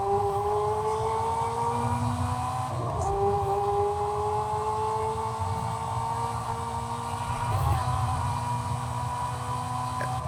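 Engine of a powerful car in Forza Horizon 5 drones steadily throughout, with sustained harmonic revving tones that dip and recover twice, over a constant low rumble.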